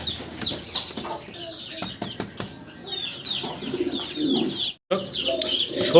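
Fancy pigeons in a loft coo softly, mixed with brief wing flaps and scattered chirps, with a short drop to silence near the end.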